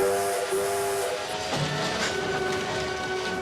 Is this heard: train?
yes